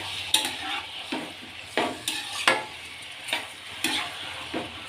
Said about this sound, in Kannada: ಇದನ್ನು ಚೆನ್ನಾಗಿ ಮಿಕ್ಸ್ ಮಾಡ್ಕೊಳ್ಳೋಣ.